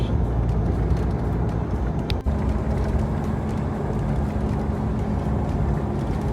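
A Mitsubishi Pajero V46 cruising at about 80 km/h on a narrow coastal road, a steady low engine and road drone filling the whole stretch with one brief bump partway through.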